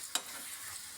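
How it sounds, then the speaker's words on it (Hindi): Chicken sizzling steadily in a pan for a sizzler platter, a broad continuous hiss with one brief sharper stir or spatter near the start, moderately loud and close, no voices. "अभी थोड़ी देर इसको हम और फ्राई करेंगे"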